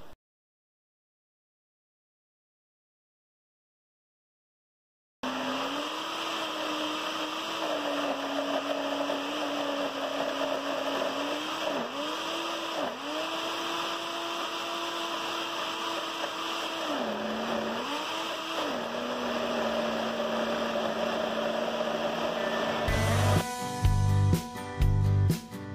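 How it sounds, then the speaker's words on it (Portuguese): A blender strains to grind homemade seasoning, its motor whining steadily with brief dips in pitch as the load bogs it down, then a rough, choppy burst near the end after a silent start. "o liquidificador está com um pouquinho de dificuldade de bater"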